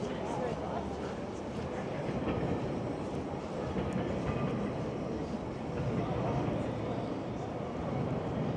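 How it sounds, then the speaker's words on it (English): A GO commuter train rumbles past steadily in Toronto's St. Lawrence neighbourhood, a dense continuous roar with faint rhythmic clatter, heard from nearby outdoors beside the rail corridor. "You can hear a GO train, there it is."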